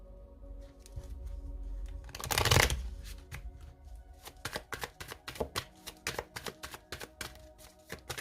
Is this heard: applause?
no